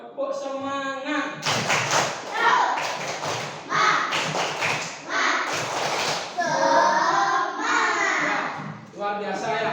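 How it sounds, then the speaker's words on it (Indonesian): Children in an Indonesian classroom clap a short rhythmic 'tepuk semangat' chant, with bursts of sharp hand claps spaced between chanted words and a voice leading, fairly close and moderately loud. "Tepuk semangat."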